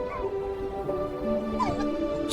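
A cold, tired stray puppy whimpers softly in a few thin, wavering cries over low background noise, quiet and close by.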